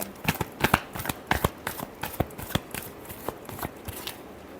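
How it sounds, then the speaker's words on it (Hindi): Tarot cards are shuffled by hand in a quick series of crisp riffling snaps and slaps, close and fairly quiet, irregularly spaced over a few seconds with no talk over them. "Last shuffle."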